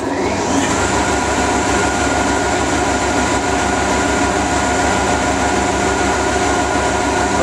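A three-phase generator starts up and runs with a loud, steady droning hum and a constant mechanical whine that holds unchanged throughout.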